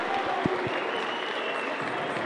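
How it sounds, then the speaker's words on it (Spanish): At a women's flyweight title bout in the Samurai Fight series, an arena crowd applauds the fighters after the fight, giving steady, moderately distant clapping with a few louder claps near the start. "Se ganan los aplausos a ambas peleadoras."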